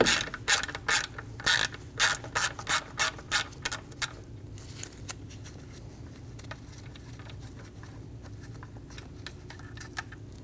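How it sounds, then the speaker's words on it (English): A ratchet with a T20 bit loosens the MAP sensor bolt on the old intake manifold of a 2012-2022 Volkswagen Passat, giving a series of rhythmic, close ratcheting clicks that fade into quieter handling noise. "Using a T20 bit, we're going to remove the bolt for the map sensor out of the old intake manifold"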